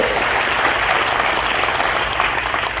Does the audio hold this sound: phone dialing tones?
no